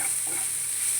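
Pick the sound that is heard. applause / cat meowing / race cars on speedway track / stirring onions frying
stirring onions frying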